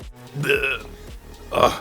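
A short burp from a man partway through a motorcycle comparison review, coming in two brief guttural bursts that sit close and loud around spoken words.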